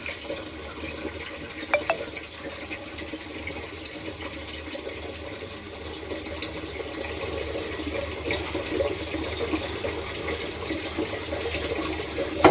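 Cold tap water runs steadily into a sink while butter is washed by hand, a continuous splashing stream that grows slightly fuller toward the end, with no talking.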